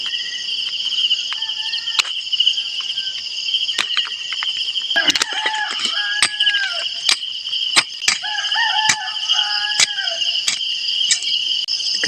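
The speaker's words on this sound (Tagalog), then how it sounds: "Kapit na ginabuntag kay nagtugaok ng mga manok." Roosters crow at dawn on a rural mountain farm, a few distant crows rising and falling beneath a loud, constant chorus of chirping crickets.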